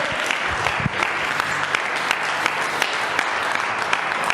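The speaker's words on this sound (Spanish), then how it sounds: "Damos el aplauso al primogénito, a nuestro Señor Yeshua." Sustained congregational applause fills a church service, dense steady clapping from many hands throughout, close and loud with no pauses.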